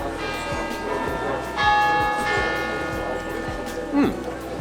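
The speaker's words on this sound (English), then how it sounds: "church bells just in time" Church bells in Ljubljana, Slovenia ring out with a steady, resonant peal and long ringing overtones, heard at a distance while someone talks nearby.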